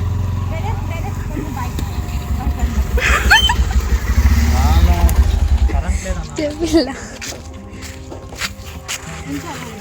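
A scooter engine sputters into life on a village ride, its low rumble running steadily under loud, excited talk from several people.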